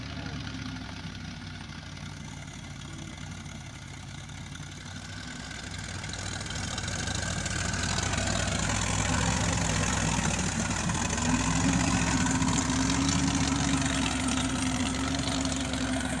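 A tractor engine runs in a farm field. It starts as a lower idle, then swells after a few seconds into a louder, steady mechanical drone that carries on to the end.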